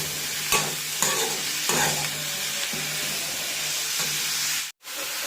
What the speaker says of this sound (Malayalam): നന്നായി ഇളക്കി ഒന്ന് മിക്സ് ചെയ്യാം